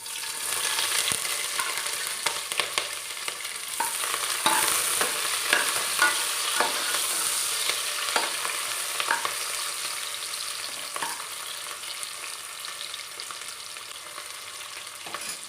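Onions, green chilies and curry leaves frying in hot oil with popped mustard seeds for a mutton kulambu: a continuous close crackling sizzle with occasional stirring clicks and pops, no voices.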